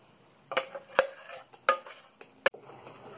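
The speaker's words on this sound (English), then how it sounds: "I'm adding rice jackfruit batter with black gram batter which I prepared previously and mixing together" A spoon knocks and scrapes in a bowl as rice-jackfruit batter is mixed with black gram batter for jackfruit dosa, giving four or five sharp, close clinks with quiet pauses between them.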